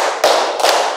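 A class claps hands in unison, two loud sharp claps close together with a brief gap, as the count reaches five.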